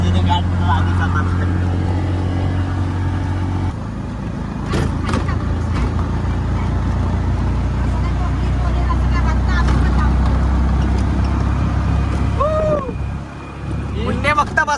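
An auto rickshaw engine drones low and steady while driving, with road and wind noise around it and people talking and calling out over the motor throughout.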